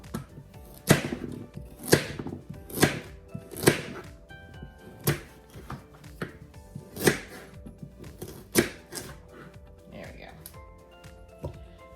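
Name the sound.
cutting carrots into chunks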